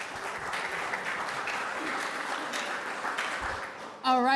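A full-house audience at a Safe Streets gathering gives sustained, moderate applause, an even patter of many hands that stops as a voice begins speaking at the very end.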